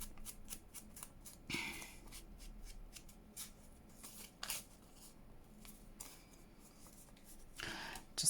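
Quiet, close-up snipping and rustling of scissors cutting paper scraps and stamp ephemera for junk journal embellishments, heard as a quick run of small crisp cuts with soft paper shuffling in between and no talk.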